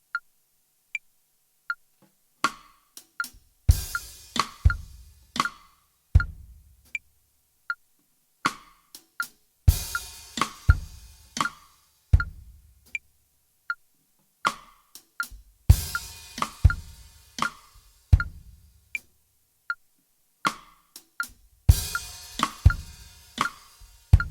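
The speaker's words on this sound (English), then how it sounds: "we're going to be playing a flammed note just before the cross stick note" A drum groove played alone in the style of a song: crisp cross-stick clicks with quick flam grace notes, steady kick thumps and light hi-hat ticks in a repeating pattern.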